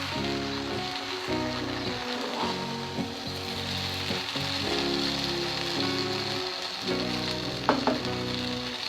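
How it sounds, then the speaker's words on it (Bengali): Chicken noodles with cauliflower and spices are stir-fried in a pan, making a continuous close sizzle like rain on a surface, with stirring scrapes and a sharp clink near the end. "যেন মাংস ফুলকপি মশলা সবগুলো নুডলসের সাথে সমানভাবে মিশে যায়"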